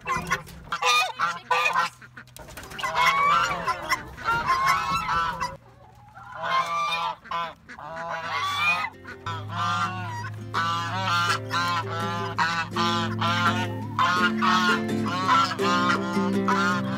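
Geese honk loudly and repeatedly on a homestead as the farm animals are let out in the morning, a dense close chorus of overlapping calls with no talk.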